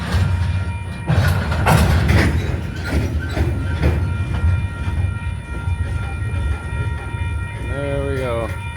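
A freight train approaches with a rising low rumble and a series of heavy thumps and clatters. A person talks over it and a bird chirps briefly near the end.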